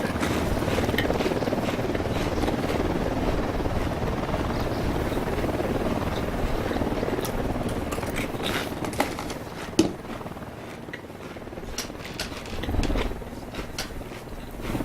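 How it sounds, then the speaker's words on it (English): A video game helicopter approaching, its rotor chop a steady rumbling thrum that holds throughout with brief sharper bursts of effects and no clear talk. "We got a chopper coming in."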